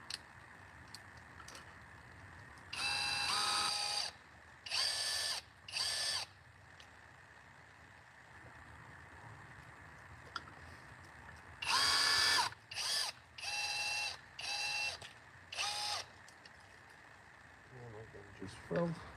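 Screws driven in with a power drill while an exterior light fixture is replaced, heard as a series of short whirring bursts in two clusters, separated by quieter pauses over faint background hum.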